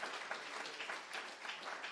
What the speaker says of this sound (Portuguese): Aplauda aí, gente.